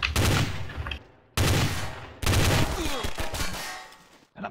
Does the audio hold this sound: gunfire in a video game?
yes